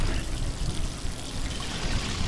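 Water flows steadily in God of War III, a continuous broadband rushing and pouring wash that stays even and close throughout, with no voices over it.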